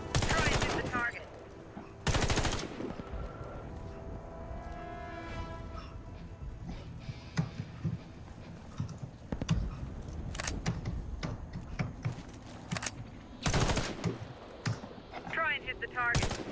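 Gunfire at targets in the video game Warface: several loud bursts of shots spread across the clip, with sharp single cracks in between and game sound and voice beneath.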